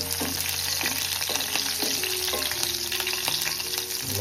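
Hot oil sizzles steadily around curry leaves and chillies as they are stirred, with repeated spoon scrapes and knocks against the pan over a constant close frying hiss.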